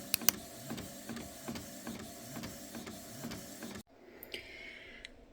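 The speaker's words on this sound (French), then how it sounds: "Je pense que je vais imprimer que 2 de chaque" A printer running through a job of small illustrations, with a rhythmic mechanical clatter of repeated feed strokes, then a shift to a quieter whirring motor near the end.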